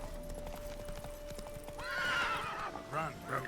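Roach the horse in The Witcher 3 gallops with rapid clip-clop hoofbeats, then lets out a loud neigh midway, with further whinnying close by toward the end over faint game ambience.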